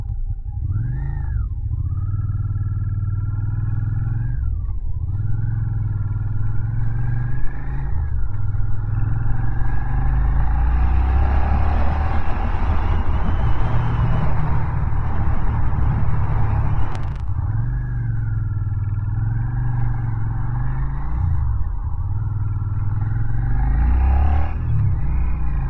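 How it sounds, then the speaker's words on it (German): Motorcycle exhaust on an autumn ride, loud and close, with the engine note rising and falling through repeated gear shifts and a long stretch of wind-roar at steady speed. "Also diese Auspuffaufnahme können wir wegschmeißen."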